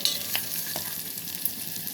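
Tomato rice made with brown rice fries on low heat in a steel pot, giving a dense, continuous hiss with a few light scrapes of stirring, close and fairly loud, with no voices.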